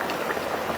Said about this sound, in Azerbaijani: Axırda görürsünüz qazın altını yuxarı eləyirsiniz. Yüksək xodda belə qaynayır.